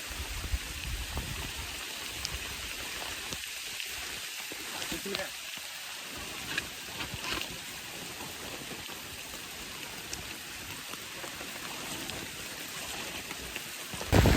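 Dense, steady rain hiss fills the scene, a constant wash of drops with a voice faintly underneath.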